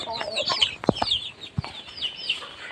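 Young Sonali chickens clucking nearby in a farmyard with ducks, a few soft clucks and sharper calls scattered across the clip, with faint background chatter.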